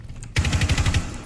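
Rapid video game gunfire erupts abruptly, a close, loud string of about a dozen quick shots in steady rhythm, fading briefly at the end.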